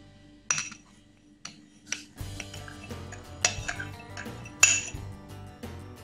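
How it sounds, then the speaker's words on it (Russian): A spoon stirs sugar into a hot gelatin mixture in a pot for homemade marmalade, giving a series of close metallic clinks and scrapes against the pot at irregular intervals. "И размешиваем его до полного растворения."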